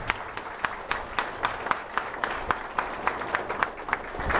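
A crowd at a political gathering in Timon, Maranhão, applauds Governor Jackson Lago with steady, fairly close clapping and sharp rhythmic claps standing out through the whole stretch.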